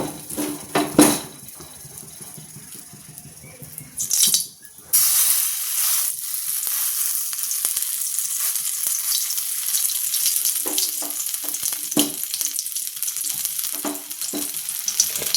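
Poppy seed fritters sizzle and crackle steadily in hot oil in a wok, a loud continuous frying hiss after a few brief clatters at the start, with no talking.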